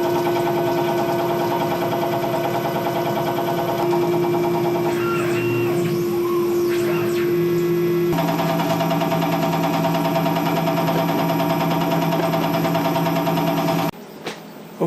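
CNC machine cutting gear teeth for idler gears, a steady mechanical whine with shifting tones and a loud grinding cut, ending abruptly as the machine stops.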